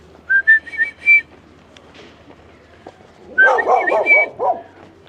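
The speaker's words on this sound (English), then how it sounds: "we got 2 dogs." Two dogs bark and whine at the Aztec temple site in Malinalco, Mexico, a few close yips early on, then a louder cluster of barks and whimpers.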